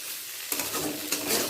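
Potato and cauliflower with poppy seed fry in a pan with oil, a soft steady sizzle that swells into louder scraping and stirring bursts partway through, with no voices.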